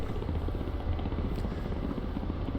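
Ka-50 coaxial helicopter in the DCS flight simulator game, a steady low rotor and engine drone with a dense rhythmic thrum, loud and continuous throughout with no talking.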